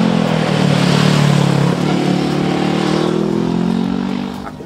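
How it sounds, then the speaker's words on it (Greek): A Voge 500R motorcycle engine and exhaust revs hard up close, a loud, deep, full bass roar that holds strong, then eases slightly and tapers toward the end. "ακούμε την εξάτμιση"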